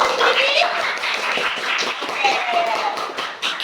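Students in a classroom clap together in a lively burst of light, rapid hand claps, with voices and a few shouts mixed in over the clapping.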